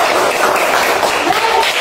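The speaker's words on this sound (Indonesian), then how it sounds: "mari kita berikan tepuk tangan untuk diri kita masing-masing." A primary school class in Wae Motto, NTT, Indonesia, claps for themselves, a brief burst of loud, dense applause from many hands filling the room.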